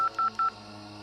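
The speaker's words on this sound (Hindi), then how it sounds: "फोन मिलाने लगी" Telephone keypad dialing tones from a phone being dialed in haste, three short electronic beeps of the same pitch in quick succession, clear and close, with no talk.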